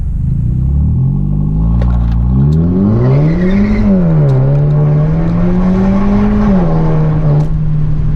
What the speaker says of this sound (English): Let me see if I can get a little bit of a wheel spin right here.